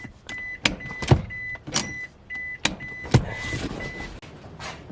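A Toyota Hilux handbrake lever is pulled up through its notches, giving several sharp mechanical clicks in short bursts with a faint tonal whine between them, close and fairly loud, no talking.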